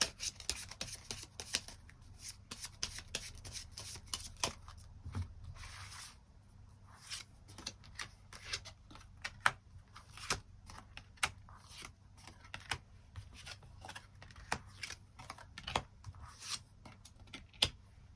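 Tarot cards shuffled and drawn close up, soft and quiet: a long stretch of papery rubs, flicks and light taps in an irregular rhythm, with a brief slower pause partway through.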